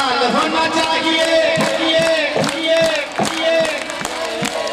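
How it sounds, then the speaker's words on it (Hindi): A crowd at a devotional kirtan clap in rhythm alongside singing voices and music, the loud regular claps landing as sharp beats under the chanting. "ये बजा बजा के ताली हाथ लाल होना चाहिए।"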